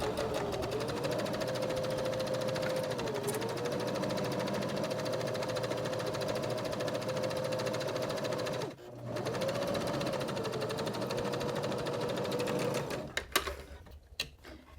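A sewing machine stitching a tie-dyed fabric tote bag, running in a long steady whirring burst, pausing briefly, then resuming before clattering to a stop near the end, close and loud.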